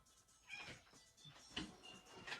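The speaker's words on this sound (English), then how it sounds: "I don't know if y'all can hear that cat outside." Cat meowing outdoors, heard faintly from inside a room, a few short distant meows spread across a couple of seconds with quiet background noise and no talking.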